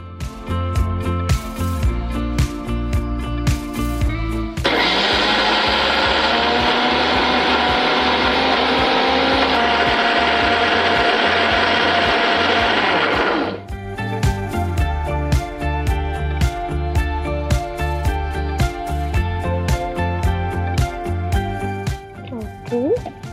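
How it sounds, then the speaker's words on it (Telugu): A mixer grinder grinds chana dal, lentils and peppercorns, whirring loudly for about nine seconds, a harsh steady motorized roar that starts and stops abruptly, with kitchen sounds before and after. "మిక్సీ పట్టిద్దాం."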